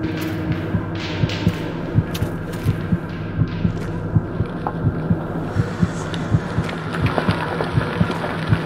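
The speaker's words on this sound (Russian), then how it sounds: "Так, а ведь сердцебиение это неспроста началось." In the horror game The Cursed Forest, a heavy heartbeat effect pounds in a steady, regular rhythm over a low ambient drone, loud and close with no speech.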